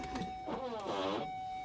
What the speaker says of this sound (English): Oh, that's the rear windshield wiper.